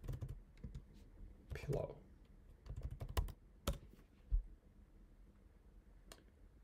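Quick bursts of clicky typing on a computer keyboard while installing a Python library, close and moderately loud, with a single spoken word partway through.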